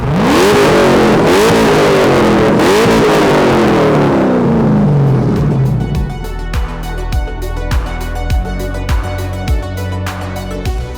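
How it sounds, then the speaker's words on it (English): LS V8-swapped RWB Porsche 911 revving hard with rising and falling pitch sweeps, then settling into a loud, lumpy idle with sharp periodic pulses, heard alone. "You hear the engine noise from far away, and you basically can tell it's not the original motor"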